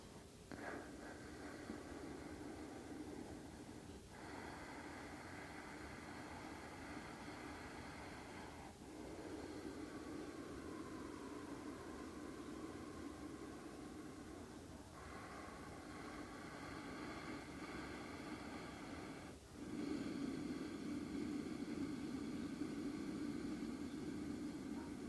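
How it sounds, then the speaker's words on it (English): Ujjayi pranayama breathing through a gently narrowed throat, a long, steady, ocean-like hiss with soft swells and brief pauses between breaths, close and alone. "So creating that very nice ocean-like sound in your breath by contracting or taking a gentle grip through the base of your throat."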